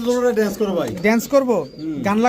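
A pair of black-faced pigeons coo close by in rolling, throaty bursts that swell and fall in quick repeated phrases over about two seconds.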